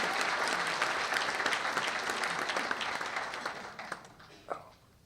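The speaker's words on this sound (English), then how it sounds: "You guys are supposed to cheer." An audience at a school leadership celebration applauds and cheers, starting loud and full, then thinning into scattered claps as it fades away.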